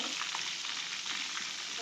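Chicken pieces sizzle in hot mustard oil for desi-style chicken curry, a steady, close crackling hiss with faint stirring.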